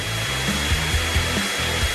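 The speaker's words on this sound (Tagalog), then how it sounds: "Paano kaya kung gamitin ko itong hair dryer para gumawa ng isang napakalaking piraso ng gum?" A hair dryer blows steadily and loudly up close, a constant airy whoosh over a low motor hum with no pauses.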